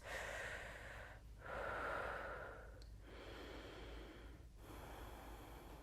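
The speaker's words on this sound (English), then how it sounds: "2 more big breaths" Deep breaths during a guided yoga session at home are heard as slow, airy inhales and exhales with a few clear pauses between them. They are quiet and close, and no voice is heard.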